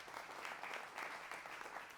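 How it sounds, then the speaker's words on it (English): At a learning center gathering, the audience gives a brief round of applause, a faint, distant, even patter of clapping hands lasting a couple of seconds. "give them a little bit of round of applause in there."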